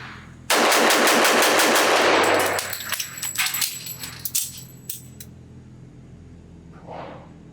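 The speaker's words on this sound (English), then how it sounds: "I'll see how fast I can shoot 5 8-round magazines through this gun." A Bren Ten .45 ACP pistol fires rapidly in a fast burst of closely spaced loud shots, then stops, followed by metallic clatter and scattered clinks as casings and parts settle.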